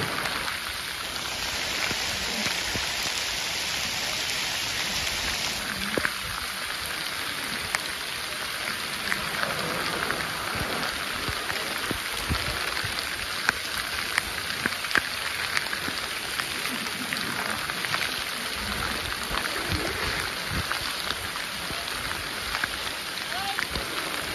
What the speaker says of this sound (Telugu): ఫుల్ వర్షం.